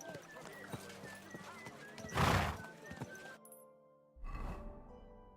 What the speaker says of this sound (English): Stop fooling around on that horse.